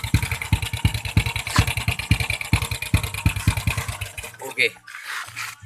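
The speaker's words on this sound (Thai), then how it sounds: "เดี๋ยวผมดับเครื่องก่อน" A motorcycle idles close by with a steady, regular low thumping pulse for about four seconds, then the engine cuts off and the sound drops away, followed by a brief rustle.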